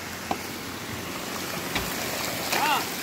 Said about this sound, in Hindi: यहाँ पे है जलधारा